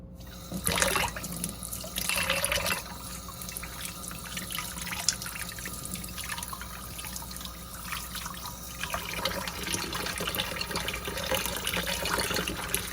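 Tap water running steadily over homemade butter being rinsed, a continuous close splashing rush with shifting tone as the flow hits the butter and bowl, no talk.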